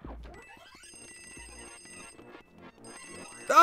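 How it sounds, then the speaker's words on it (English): A telephone rings in the Luigi's Mansion mod video game, bright electronic ringing tones held for a second or two, then repeated after a short gap, with no talk over it. "There's that phone again."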